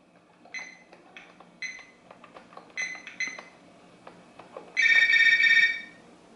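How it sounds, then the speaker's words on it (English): Coleco Pocket Legion handheld video game: a series of sparse electronic beeps and blips, then a loud, steady electronic phone ring lasting about a second near the end. "Well, the phone rang again"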